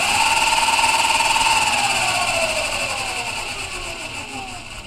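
A 1200 watt electric motor scooter runs with a strong rising and falling electric motor whine, close and loud, its pitch sweeping as it accelerates and then gradually easing off.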